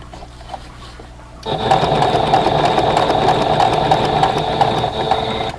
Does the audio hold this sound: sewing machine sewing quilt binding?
yes